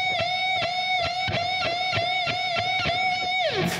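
An electric guitar plays a quarter note triplet rhythm, evenly spaced muted attacks under a sustained high note that bends down at the end, loud and alone.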